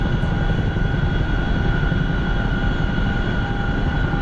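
A Chinook helicopter engine in a video game drones loud and unbroken, a dense low roar with a steady whining tone layered above it and no voices.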